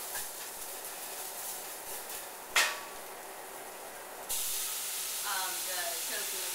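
Shrimp and tofu stir fry simmering in broth with onion, a soft steady sizzle and hiss that suddenly grows louder and brighter partway through, with a sharp brief clatter near the middle.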